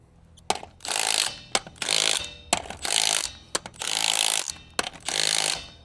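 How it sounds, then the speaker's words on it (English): A 3/8-inch compact impact wrench hammers on the lug nuts of a Kawasaki H2, firing four or five loud, close bursts of rattling impacts, each lasting about a second and separated by short pauses. "even this 3/8 compact impact wrench can work not only for lifting the car, but also for breaking these lugs loose"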